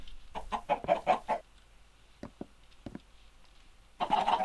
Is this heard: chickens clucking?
yes